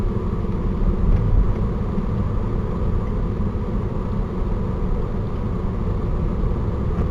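Steady interior drone of a car driving along a road, a constant low rumble and broadband hiss that holds even throughout with a brief swell early on, no talking.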